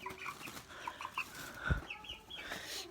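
Chickens cluck and murmur continuously in a coop, several birds calling softly at close range, with a brief thump partway through.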